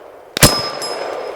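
A single sharp shot from a pistol carbine conversion kit strikes a small steel gong target, giving a loud crack followed by a bright metallic ring that sustains and slowly fades, heard alone.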